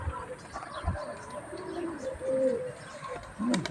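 Pigeons coo in soft, low, rolling calls at close range over a faint outdoor background, with brief rustles and thumps from the birds.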